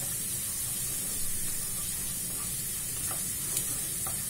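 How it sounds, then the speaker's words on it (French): Crushed garlic cooking in hot oil gives a soft, even sizzle with a faint hiss, close and quiet, broken by a few tiny pops. "Je vais maintenant rajouter l'ail. Que j'ai écrasé bien évidemment et je vais le faire revenir."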